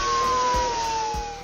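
A cartoon police-car siren sounds as a steady, slightly falling electronic tone, moderately quiet, with no voices.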